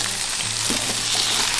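Ground beef frying in a roasting pan, a close, steady sizzle and crackle with faint stirring, no voices.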